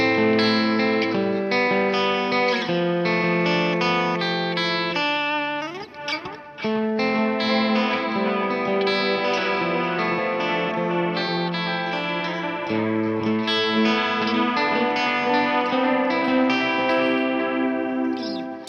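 Electric guitar with a slightly dirty, overdriven tone and delay whose mix is controlled by an onboard expression pedal, playing steady chords and melodic runs with echoing repeats, loud and sustained throughout.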